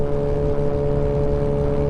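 A motorcycle engine hums steadily while riding to work in the morning, a constant droning tone with low rumble and no speech, holding an even level throughout.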